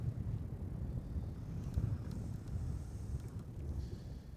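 Gusty wind blowing outdoors while catfish fishing, a low rumbling buffet against the microphone that rises and falls throughout, with no talk.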